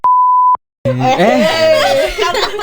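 A single steady censor beep, about half a second long, cuts off abruptly into a brief silence. Chuckling and casual podcast chatter follow in Indonesian.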